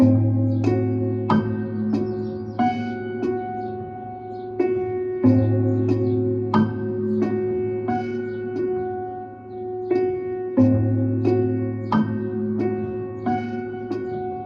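Slow, solemn prepared piano playing John Cage's Sonatas and Interludes: struck chords ring out one by one at a measured processional pace, each with a buzzy, metallic resonance that lingers.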